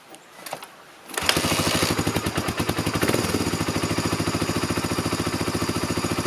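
A Suzuki DR350SE single-cylinder motorcycle fires up after a carburetor rebuild: a few quiet mechanical clicks, then the engine catches suddenly and runs loud and close with a rapid, even thumping beat.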